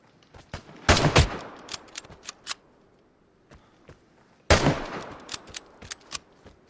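Two short bursts of machine gun fire in a video game, each a loud, tight cluster of rapid shots, are separated by scattered lighter clicks and pops over a quiet background.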